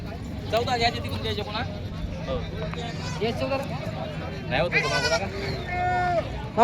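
Goats bleating at a crowded Bolda goat market, several wavering cries near and far rising over a busy background of crowd chatter and people talking.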